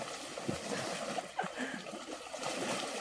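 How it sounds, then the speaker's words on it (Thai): Water flowing in a forest stream, a steady soft rush and trickle with faint splashes, fairly quiet and continuous throughout. "น้ำไหลนะครับดู"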